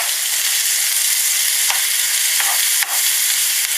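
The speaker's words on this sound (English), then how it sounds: "Quickly give those onions a stir and look like they're well on their way." Onions frying for a chicken and beef pasta give a loud, close, continuous hiss, with a few brief scrapes as they are stirred in the pan.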